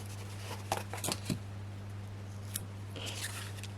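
Scissors cut a piece of craft material, a few quick, faint snips close by in a quiet room with a low steady hum underneath.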